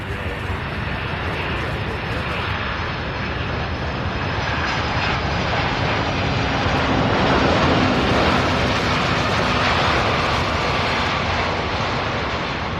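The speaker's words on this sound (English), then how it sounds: "Beautiful landing as usual there." A UPS cargo plane landing at Louisville's SDF airport, its engine roar loud and steady throughout, swelling slightly in the later seconds, with a voice faintly speaking over it.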